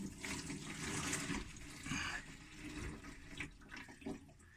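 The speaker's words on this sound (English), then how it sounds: "So that's all the water in the fan body due to combustion of CH4." Condensation water draining out of a furnace fan body, a continuous splashing, gushing flow close by with some surges, no talk over it.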